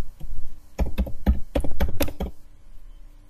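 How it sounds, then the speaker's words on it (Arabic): Fingers tap out a password on a computer keyboard in a quick irregular burst of close, crisp keystrokes, then the keys fall quiet. "نرجع هنا نكتب الباسورد مرة ثانية"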